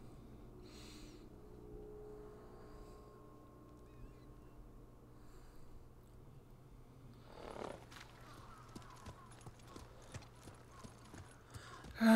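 Horse hooves clip-clopping in the video game Ghost of Tsushima, faint and quiet at first, then a denser patter of hoofbeats joins the background, ending in a louder burst.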